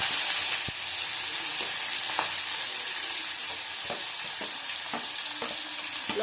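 Chopped onion, chilli and whole garam masala fry in a pan, with a steady close sizzle and sporadic sharp ladle taps and scrapes against the metal, no voices heard.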